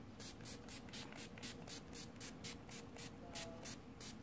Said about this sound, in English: I've been using the NYX First Base primer spray. I'm going to spray that